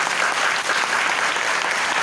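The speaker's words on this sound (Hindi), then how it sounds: "मैं चाहूँगा कि जोरदार ताली बजा दें" An audience at a church sermon gathering claps in dense, continuous applause, loud and sustained throughout.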